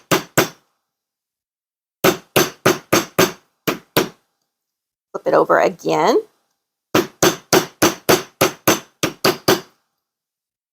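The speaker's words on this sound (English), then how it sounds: "to hammer down on the long side of the oval with it on the mandrel" Sharp metal hammer strikes on an oval jump ring held on a steel mandrel, in quick bursts of four to six blows separated by pauses, with a short spoken line in the middle.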